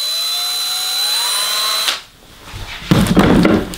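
A new Lidl Parkside cordless drill whines at a steady high pitch, then cuts off abruptly; after a pause, sharp clattering and knocking sounds follow close by.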